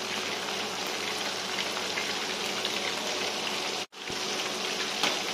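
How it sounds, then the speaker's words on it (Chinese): Korean fried chicken pieces deep-frying in hot oil, a loud, steady crackling hiss that runs throughout with one brief dropout midway. "我们先等它油炸3到4分钟定型之后呢"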